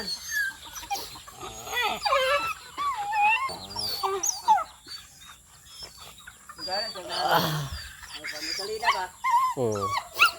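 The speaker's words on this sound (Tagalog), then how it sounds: "Talaga itong mga aso to eh." A dog whimpers and whines in high, wavering tones amid chickens clucking nearby, with a person talking over the animals.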